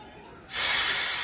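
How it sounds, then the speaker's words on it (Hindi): LPG gas is released from a container, starting abruptly after a quiet moment as a loud, steady, close-up hiss that continues without pause. "और इसमें हम एलपीजी गैस निकाल लेते हैं थोड़ा सेफ्टी से इसको साथ।"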